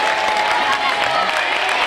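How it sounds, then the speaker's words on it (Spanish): Applause from a school audience of children and teachers, a dense, steady patter of clapping sustained throughout, with faint voices mixed into the wash of hands. "Un aplauso también, ¿vale?"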